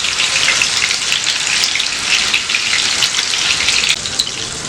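Chicken breast pieces pan frying over a medium flame: a loud, steady, close-up sizzle with crackling oil that continues without a break.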